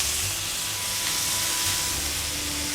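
Mutton liver sizzling and frying on a hot tawa after a splash of water, giving a steady, loud hiss that carries on with no break and no voices.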